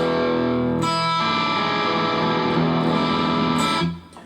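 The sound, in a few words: electric guitar with distortion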